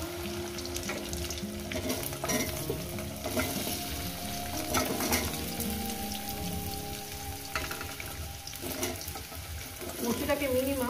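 Taro pieces fry in a pan for a sizzling chorchori curry, a steady close crackle with stirring scrapes, faint voice-like tones and a trace of running water now and then.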